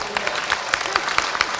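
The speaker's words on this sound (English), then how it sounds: "Give a hand for the regional steering committee, yeah? I'm sure you can give a louder clap," Audience clapping for a regional steering committee at a closing plenary session, a lively round of applause with distinct individual claps standing out in an irregular patter, fairly loud and close.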